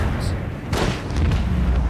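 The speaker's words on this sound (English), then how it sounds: "Dorsal cannons." Dorsal cannons fire aboard a starship in Warhammer 40K: Rogue Trader, a broad heavy boom rising around the middle of a short stretch and rolling on under a low rumble, with a voice talking over it.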